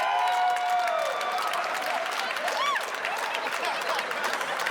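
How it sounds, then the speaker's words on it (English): A comedy club audience applauds and cheers after a joke, a dense burst of clapping and whoops with a few whistles, fading slightly over several seconds. "I'm glad a lot of you are cheering."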